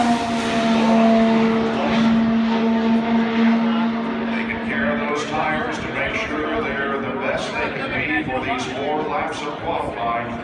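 An IndyCar race car screams through qualifying laps at the 2018 Indianapolis 500 pole day, a high engine whine under continuous commentary from an announcer.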